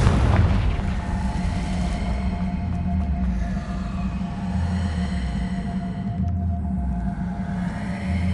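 A deep, booming spell blast from the Confringo blasting curse in the game Hogwarts Legacy, with a heavy explosive hit at the start followed by a sustained low rumble and echoing debris.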